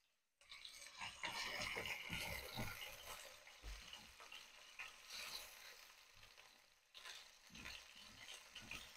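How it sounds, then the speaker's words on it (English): Beef sizzling and frying in vegetable oil in a pan, a steady broadband crackle that begins abruptly after a short silence and continues loudly with some stirring clatter, dipping briefly near the end. "I'm adding a little bit of vegetable oil in my pan. I'm going to add my beef."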